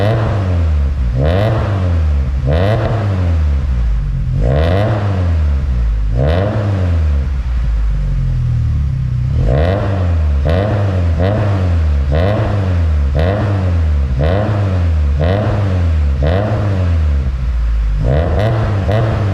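A fully built Mazdaspeed6 with a huge turbo revs repeatedly, each throttle blip rising and falling in a steady rhythm of loud, close engine swells with brief pauses between them.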